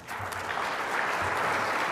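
Steady applause from a conference audience, an even wash of many clapping hands that holds throughout, fairly loud with no talking.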